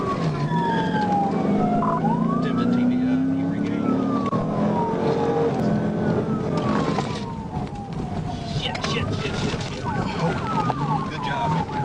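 A police car's siren wails in rising and falling sweeps during a pursuit, loud and close over engine and road noise, with voices talking over it.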